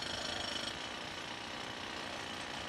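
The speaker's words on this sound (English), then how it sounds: "His drill weighs 45 kilos." A heavy 45 kg drill preps concrete building columns for demolition high on a tower, a dense, continuous rattling roar with a rapid hammering pulse at the start, steady and close throughout.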